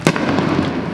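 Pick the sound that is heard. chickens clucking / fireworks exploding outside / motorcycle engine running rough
fireworks exploding outside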